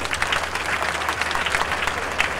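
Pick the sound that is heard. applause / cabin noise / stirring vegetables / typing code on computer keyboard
applause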